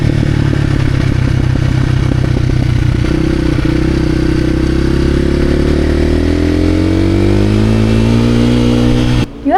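Dual sport motorcycle cruising at about 50 mph, its engine droning loud and close with a steady pitch that shifts and climbs midway, under wind rush, with a brief drop-out at the very end.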